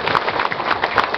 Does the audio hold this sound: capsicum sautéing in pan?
no